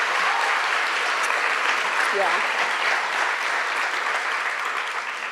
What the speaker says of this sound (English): we're going to give James a little round of applause